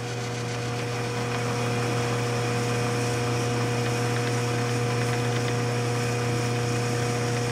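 ShopSmith 10ER machine fitted with a slow speed kit, running steadily with a continuous motor hum and mechanical whine, close and constant throughout.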